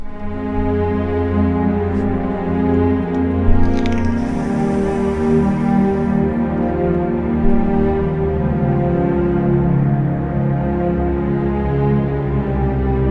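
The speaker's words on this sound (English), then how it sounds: "a string patch that we haven't checked out before" A synthesizer string patch holds a thick, sustained chord, dense and steady with a slight swell, played loud and alone with no talk.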